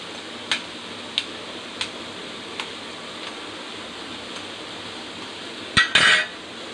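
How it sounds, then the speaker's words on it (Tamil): An egg is cracked and poured into a pan while making kothavarangai (cluster bean) egg poriyal. A few light, evenly spaced clicks come first, then a sharp crack and a brief hissing splash near the end. "இப்போது முட்டையை உடைச்சி ஊற்றிக்கலாம்."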